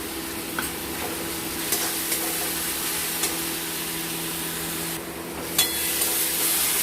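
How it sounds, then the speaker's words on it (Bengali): Ginger and garlic paste frying in hot oil for a fish kofta curry, a steady loud sizzle throughout with a few sharp clicks of a spoon stirring against the pan. "আদা রসুন সব কিছু এক ভালো মতো করে এটাকে একটু কষবো।"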